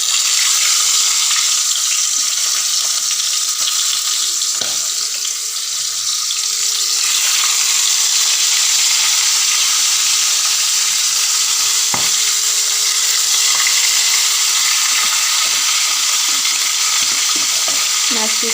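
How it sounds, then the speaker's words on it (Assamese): Pieces of home-pond fish rubbed with turmeric and salt sizzle steadily in hot oil, a dense, close crackling hiss with a few soft pops throughout, and no one talks. "এতিয়া একণ একণকৈ মাছকেইখন তেলত দি দিম"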